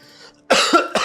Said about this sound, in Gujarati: તને ખાંસી આવે છે ને?